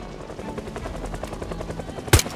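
In a video game, a helicopter's rotor beats in a steady rapid rhythm at moderate volume, broken near the end by one sharp, loud burst like a gunshot.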